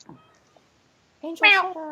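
A pet cat meows loudly and close by in a harmonic, drawn-out call lasting about half a second, after a person speaks briefly and quietly.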